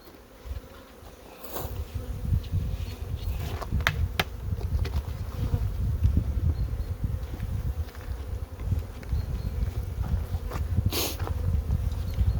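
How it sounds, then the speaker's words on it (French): Honeybees buzz steadily around a hive with full honey supers, a dense, continuous droning hum with occasional louder passes of single bees close by. "Bon, j'ai quelques abeilles qui chafouinent"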